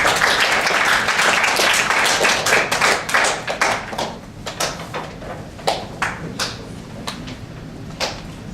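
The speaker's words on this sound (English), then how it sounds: "Give them a round of applause." An audience at a youth speaker's talk claps in a loud burst that thins out into scattered individual claps and fades over several seconds.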